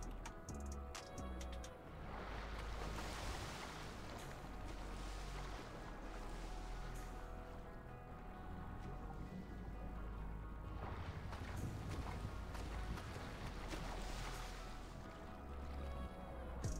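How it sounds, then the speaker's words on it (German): A motorboat engine rumbles steadily for the whole stretch, a continuous loud low drone with faint splashing and background game noise during a police chase in a video game. "Ich höre ein Motorboot."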